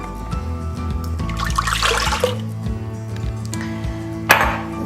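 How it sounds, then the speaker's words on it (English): Almond milk poured into a medium saucepan, a steady trickling pour running for about two seconds, then a clatter near the end with steady background hum. "we are going to add the 2 cups of almond milk"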